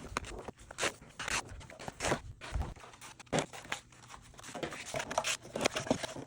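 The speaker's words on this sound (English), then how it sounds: "I'm folding them in half and putting them through this tiny little cutter because it really doesn't matter." A tiny paper cutter slices through folded 12-inch cardstock sheets, making close, steady scraping, crunching and rustling sounds in a dense, continuous stretch.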